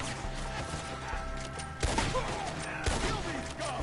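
Gunfire in the video game Red Dead Redemption 2, a dense fusillade of overlapping shots during a tree-line ambush, with two sharper, louder bursts standing out over a constant busy din of combat noise.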